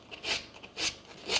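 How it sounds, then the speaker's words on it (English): Sandpaper rubs against film in three rasping strokes that start and stop in a rough rhythm, close and fairly quiet. "Sandpaper, useful. You can do some nice scratching."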